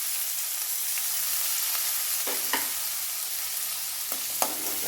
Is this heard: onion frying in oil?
yes